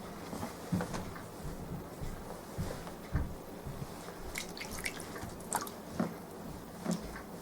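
Wet hands pull clay teapot handles in soft, squelching strokes, giving a loose run of moist squishes and drips with occasional louder slaps, heard close up.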